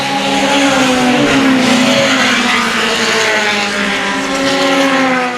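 A race car at Central Texas Speedway, trailing smoke from the rear right side, roars past with a loud, sustained engine drone whose pitch slowly rises and falls throughout.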